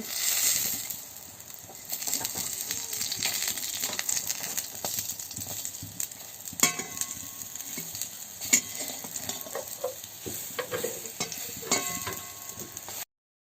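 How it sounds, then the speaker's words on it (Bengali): Oil sizzling steadily as crab fritters fry in a pan, with occasional scrapes and clinks of a spatula turning them. "এইরকম করে সবগুলো ভেজে নেব ওলট পালট করে"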